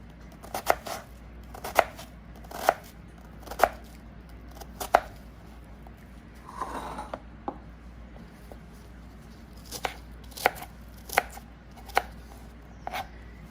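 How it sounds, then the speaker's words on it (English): A knife chops fresh cilantro on a cutting board in crisp, evenly spaced taps, close and clear, pausing briefly midway before resuming in quick pairs. "And see how nicely it chops."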